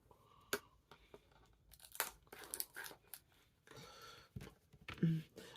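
A Blu-ray case with a plastic security tag is opened, giving close, quiet bursts of tearing and crinkling wrapper with scattered clicks and rustles.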